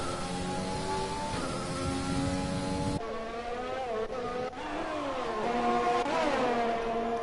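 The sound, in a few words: race cars passing in the F1 racing video game, Baku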